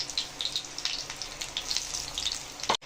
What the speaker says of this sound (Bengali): আমি অল্প অল্প করে ভেজে নিচ্ছি